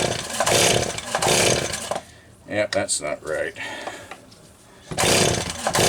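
Stihl 026 chainsaw that won't start. Two rough, scraping bursts of pull-starting, one at the beginning and one at the end, frame someone speaking briefly in between, and the engine never catches.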